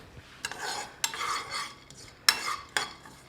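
Chopped pecans stirred with a spoon as they toast in a pan: a few sharp scraping clinks at irregular intervals over a soft rustle, quiet and close.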